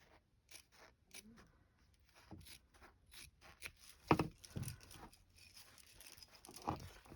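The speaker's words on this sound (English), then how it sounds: "I can trim the blanket down" Scissors snip through a quilt blanket in a few quiet, scattered cuts with soft fabric rustling between them, fairly close but faint.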